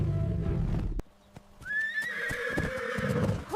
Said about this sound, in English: Horse. This is a horse.